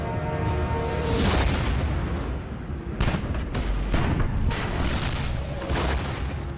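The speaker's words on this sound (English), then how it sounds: "Soviet artillery begins to shell Berlin on April 20th" Soviet artillery shelling Berlin, a series of heavy booming blasts with rolling rumble, several distinct explosions spaced irregularly, loud and close.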